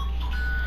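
A phone alert rings, a steady electronic tone held under a low background hum for the whole brief moment.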